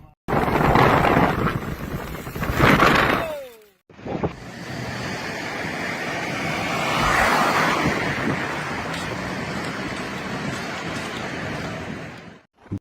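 Strong storm wind battering Wellington, New Zealand: a loud, roaring rush of gusting air buffeting the microphone, briefly cutting out, then returning as a sustained blustery roar.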